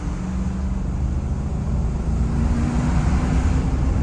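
A Ram 2500 pickup truck with an upgraded engine pulls away, its low engine drone rising gradually and staying strong and close throughout, with no talk over it.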